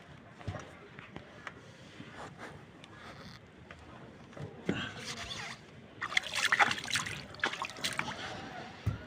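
Water trickles and splashes in a roof gutter, a faint wet dribble that swells into louder splattering near the end, with people talking over it at times.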